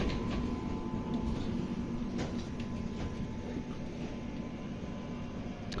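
Low, steady rumble of the departing Yesvantpur–Hubballi weekly superfast express train at night, with a continuous mechanical drone and faint metallic clatter, no voices, moderately loud throughout.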